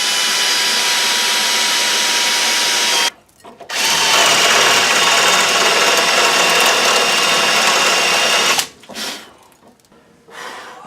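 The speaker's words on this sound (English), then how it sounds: "So now we're on to drilling because they didn't just fall out." Power drill boring out a ball joint on a GM truck, a loud continuous high whine for several seconds, a brief pause, then another long run before short final bursts, close and alone without talking.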